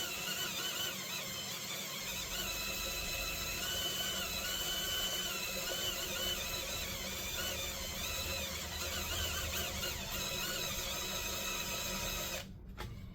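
A drill bores slowly through metal for small rivet holes on a lowrider bicycle, giving a continuous whining, squealing grind that holds steady for about twelve seconds before cutting off.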